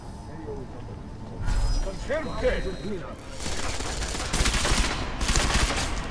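Turret gunfire in Deus Ex: Mankind Divided, rapid bursts of shots crackling in clusters, loudest in the later half, with a voice talking over the earlier part.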